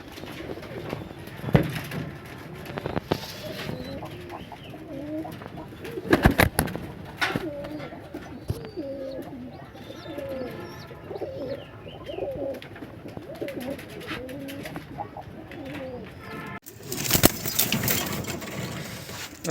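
Rajshahi Giribaz pigeons coo in soft, repeated rolling phrases close by, broken by a few sharp clattering knocks and rustles.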